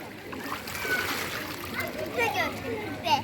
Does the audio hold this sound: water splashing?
yes